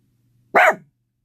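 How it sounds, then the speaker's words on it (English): A single short, close bark from a dog, sharp and alone against near silence. "Then stop barking."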